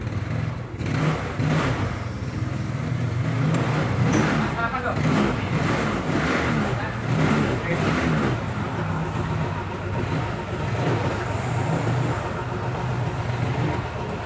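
A Yamaha Mio scooter engine runs close by after a fix for its hesitation on low-end throttle, a steady buzzing drone with repeated throttle surges, and a voice talks over it.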